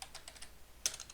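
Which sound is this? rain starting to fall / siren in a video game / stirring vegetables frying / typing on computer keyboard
typing on computer keyboard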